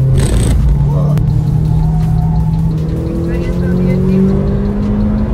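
A Dacia engine fitted to a formula race car in the Assetto Corsa racing game revs hard and climbs through the gears, loud and continuous, with a voice over it at the start.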